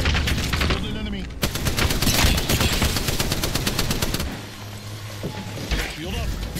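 Rapid automatic gunfire in the battle-royale game Apex Legends, a dense loud burst of repeated shots for several seconds, then quieter game sounds and a few scattered effects; a voice talks over part of it.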